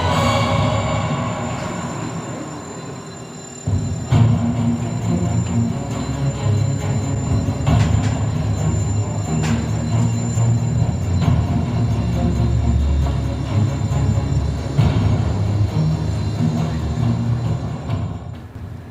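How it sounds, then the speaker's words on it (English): A freight locomotive runs on the Felixstowe port line, a loud continuous rumble and rolling rail noise that swells after a few seconds and holds steady, with faint squeals and no talking. "This locomotive here operates on the 31st train path connecting the port of Felixstowe"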